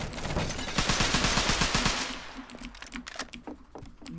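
Rapid automatic gunfire in a video game rattles off in a dense burst for about two seconds, then gives way to a few sparser, quieter shots and clicks, loud and close with no talking.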